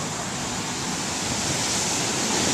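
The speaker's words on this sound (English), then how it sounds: "You don't think those waves can come up here, do you?" Ocean waves breaking on a beach, a continuous loud rushing wash of surf that swells slightly toward the end, heard alone without talk.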